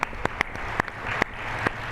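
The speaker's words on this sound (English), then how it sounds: "So give Megan another round of applause." Faint, scattered handclaps from a small audience at an equal-pay panel discussion, a few sharp separate claps over a quiet room rather than a full ovation.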